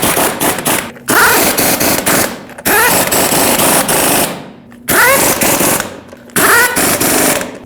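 An impact wrench drives the lug nuts onto the rear wheel of a 2009–2010 Dodge Ram 1500 in four loud, close, rattling bursts, each about a second long, with short silent gaps between them.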